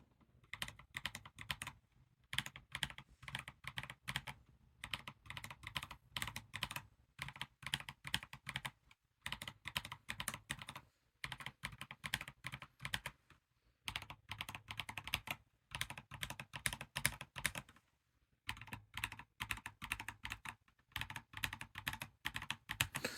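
Typing on a budget mechanical keyboard fitted with swapped switches and keycaps, steady bursts of close, crisp key clacks separated by brief pauses, comparing two keycap sets back to back with no talking.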